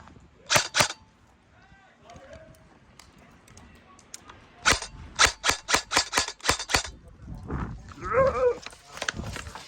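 Sharp, snappy airsoft gun shots pop in a rapid burst at an abandoned military base, with a couple of isolated shots earlier, mixed with faint voices and animal calls in the background.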